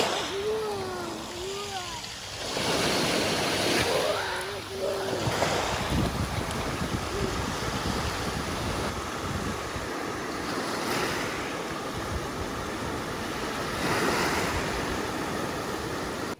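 Sea waves and surf on the Albanian coast roll in as a steady, close wash with strong wind buffeting the microphone and faint high chirps early on.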